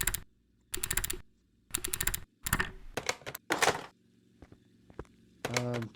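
Buttons clicked in fast keyboard-like flurries during a Car Mechanic Simulator 2021 restoration of a junkyard Porsche 911: several close rattling bursts, then scattered single taps and a final short volley, with no voices.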